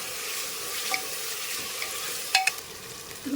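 Tomatoes softening in a hot pan give a faint, steady sizzle, with a few soft stirring scrapes and clinks of a utensil, the loudest near the end. No one speaks.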